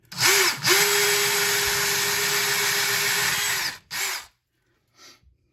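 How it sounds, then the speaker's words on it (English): A power drill bores a hole for an over-the-range microwave mounting bracket, with a brief spin-up, then a steady, close, loud whine for about three seconds, a short final burst and a faint blip. "I got the holes all drilled, 5/8 at the A and B, and then a 3/8 hole at our stud line"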